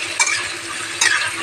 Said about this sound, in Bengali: তারপরে আমি পেঁয়াজটাকে ভেজে নেব ভালো করে